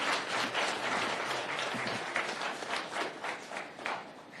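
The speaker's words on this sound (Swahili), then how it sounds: "Tuwapigie makofi." An audience claps at a presidential event in Pumwani, Kenya, for a boda boda safety association, producing a steady, moderately loud round of applause that fades slightly toward the end, with no talk over it.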